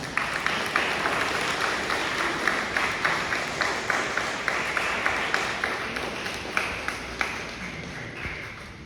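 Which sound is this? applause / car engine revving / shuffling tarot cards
applause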